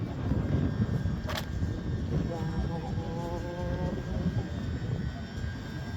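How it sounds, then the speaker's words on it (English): Train engines at a station beside a level crossing rumble low and steady as the train pulls away. The sound is fairly quiet and distant, with a faint tonal whine over the roar. "Engines are starting, wheels are going."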